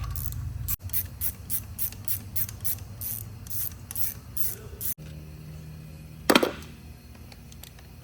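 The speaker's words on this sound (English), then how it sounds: "Then you just loosen everything off and then put your dual valve springs on." Ratcheting and metallic clicking from hand tools while dual valve springs are fitted onto a cheap used engine, a rapid series of ratchet clicks, then a short sharp scrape, close and moderately loud.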